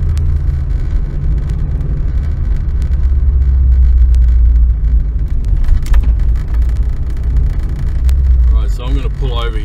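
Car engine at about 2000 rpm while driving at just under 50 km/h, a steady low rumble with road noise filling the cabin and a voice speaking briefly near the end.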